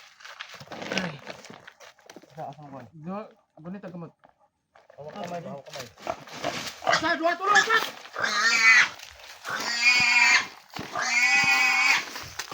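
A pig squeals and grunts in loud, rising bursts that grow more intense toward the end, mixed with people talking nearby.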